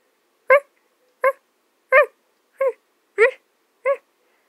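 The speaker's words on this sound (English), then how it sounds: "just barks softly" A dog gives six soft, evenly spaced barks, quiet and close against a silent background.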